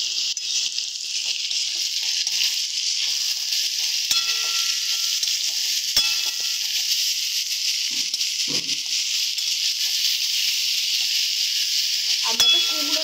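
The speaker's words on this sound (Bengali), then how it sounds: "তো সমস্ত মশলা দিয়ে এবার এটাকে আমরা ভালো করে কষিয়ে নেব।" Pumpkin stir-fried with cumin powder, salt and spices in a pan, a constant loud hiss of sizzling oil broken by occasional scraping and knocks of a spatula, close and continuous with no speech.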